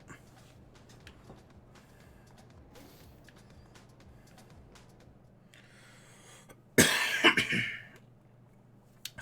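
A person with a bad cough lets out a loud burst of harsh coughs near the end, after a long stretch of quiet room noise; one final short cough follows.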